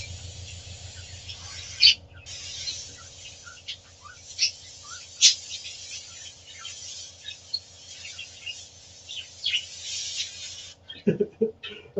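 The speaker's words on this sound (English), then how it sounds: "Birds are singing." Pet birds chirp and squeal in short, bright bursts over a continuous airbrush hiss and a low hum, their calls scattered irregularly at moderate distance.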